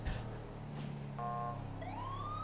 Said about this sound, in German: Hab die Sirene angemacht.